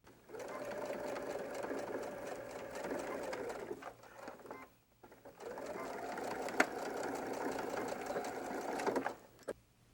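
A sewing machine stitches through the lining and exterior fabric layers of a quilted Sizzix dumpling bag, running in two steady buzzing bursts of several seconds each with a short pause between them and faint handling clicks.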